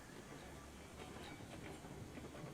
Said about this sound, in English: this will set off to go to the coal mine for a speedy boy of a train